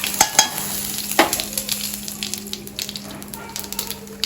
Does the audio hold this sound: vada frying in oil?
yes